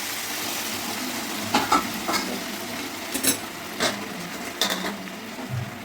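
Khichdi sizzles steadily in a hot pan as boiling water goes in, a continuous hiss broken by a few sharp clinks and scrapes of a utensil.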